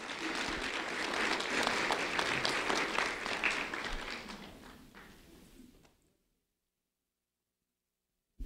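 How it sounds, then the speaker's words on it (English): An audience applauds a student being called up at a school ceremony, a dense roomful of clapping that holds steady, fades over the last seconds and gives way to silence. "a round of applause for Anthony, please"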